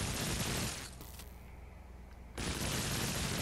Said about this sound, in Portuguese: E ele também tem um disparo rápido.